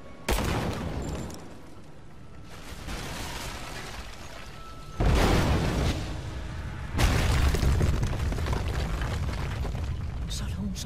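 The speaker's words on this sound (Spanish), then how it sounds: "Y... explosión." Loud, booming explosions in the Rise of the Tomb Raider video game: several heavy blasts and rumbling bursts in a row, each followed by a lingering roar of debris.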